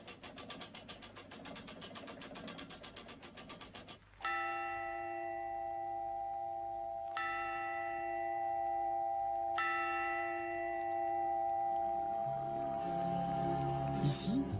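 A château clock bell in a village near Mont Ventoux strikes three times, each loud, close stroke ringing on with a long, sustained tone, after a few seconds of fast mechanical ticking and rattling from the clockwork; no one speaks.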